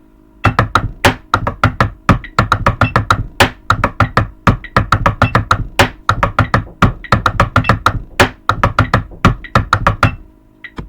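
A high school drumline rhythm on drums with a shot, played as a dense run of sharp, close, loud strikes in a steady driving pattern, with no talk over it.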